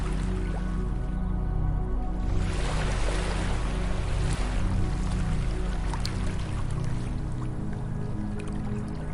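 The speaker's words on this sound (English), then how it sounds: "the soothing sound of the ocean's waves" Ocean waves wash onto a beach in a steady, full rushing roar, with one surge swelling partway through and no voices.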